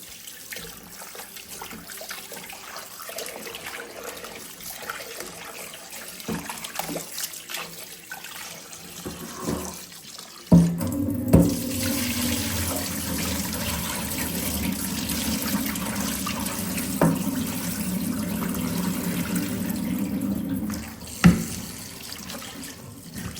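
Tap water runs steadily into a sink as frozen meat (gosht) is washed, a continuous splashing stream that starts partway through and stays moderately loud, with a few brief clunks.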